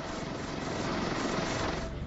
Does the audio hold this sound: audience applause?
no